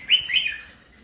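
A caged songbird gives one bright, rising chirp that quickly fades, close and clear.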